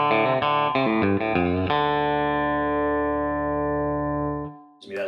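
A quick electric guitar country lick in minor pentatonic, tuned to drop D, runs through several fast picked notes before settling on a long ringing note that fades, loud and close with no voice.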